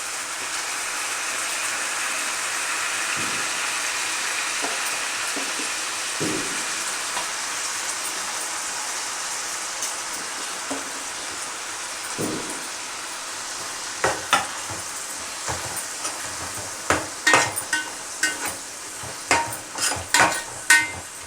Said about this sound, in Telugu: ఉల్లిపాయ వేగింది దాంట్లోకి కరివేపాకు తరిగిన టమాటా ముక్కలు